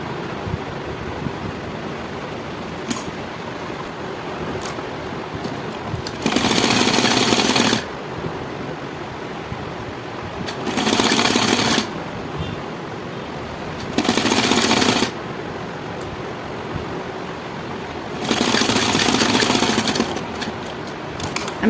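An electric sewing machine stitches a blouse front neckline in four separate bursts of rapid mechanical whirring, each a second or two long, with quiet room pauses between them and no talking.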